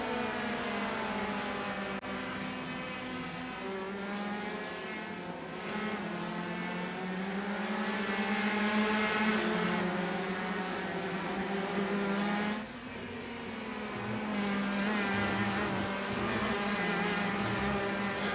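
Indy Pro 2000 open-wheel race cars in iRacing at Virginia International Raceway, engines droning loud and steady with rising and falling pitch as the cars run close together through corners and straights, with no talk.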